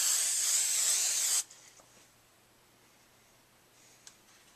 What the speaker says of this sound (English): make sure you spray each hair extension with hairspray